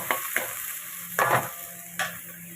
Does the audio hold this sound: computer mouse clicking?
no